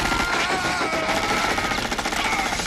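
Rapid automatic gunfire from the 1987 film RoboCop, a dense continuous burst of shots heard through a reaction recording, loud and sustained across the whole moment.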